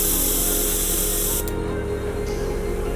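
A dual-action paint spray gun sprays paint with a loud, close, steady hiss of air that changes tone as the trigger is pulled back for paint, running continuously for the full three seconds.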